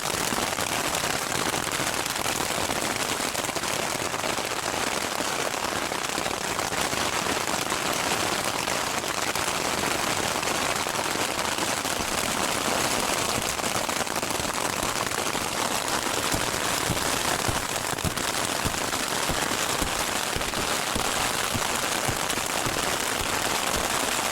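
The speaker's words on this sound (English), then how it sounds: "We got some rain now too." Steady heavy rain from a passing storm on the Uinta Highline Trail, pattering on a hard surface, continuous dense drumming of drops with no pauses, close and fairly loud throughout.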